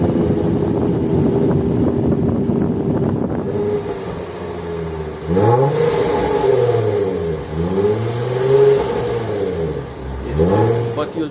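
A 2015 Range Rover Sport HSE engine revs repeatedly through its dual exhaust in rising and falling sweeps, loud and close, after a steady idling rumble.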